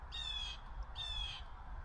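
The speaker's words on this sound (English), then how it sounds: "I hear birds" Two harsh, squawking calls from a bird outdoors, evenly spaced about a second apart, fairly faint over a low background rumble.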